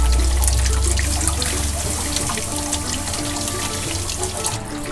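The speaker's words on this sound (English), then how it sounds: "I just like to hammer them with the hose this time of year, because this water is icy cold." A steady, forceful spray of icy cold water from a garden hose hitting sausages runs close and loud throughout, a continuous hiss that eases slightly after the first second.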